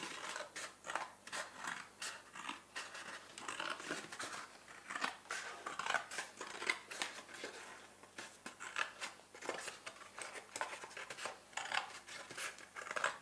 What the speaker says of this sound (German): Also zunächst schneide ich mal einen Streifen von so circa 1 cm ab.